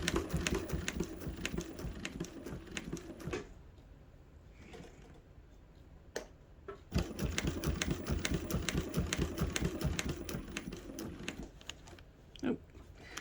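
Chain stitch embroidery sewing machine stitching letters in fast, dense bursts of rapid needle clatter, pausing for a few seconds in the middle with a faint click, then resuming close and steady.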